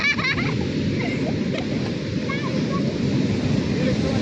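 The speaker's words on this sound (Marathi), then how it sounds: "सगळ्या लाटाच यायला लागल्या" Ocean waves wash onto the beach at Alleppey, Kerala, as a steady, loud broadband roar with wind buffeting the microphone and faint voices of people in the background.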